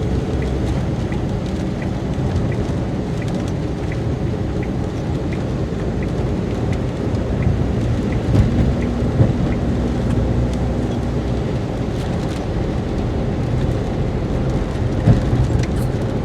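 Steady rain pours throughout, heard from inside an automatic Maruti Alto VXR car, a dense hiss with low rumbling underneath that could be distant thunder or road noise, no voices.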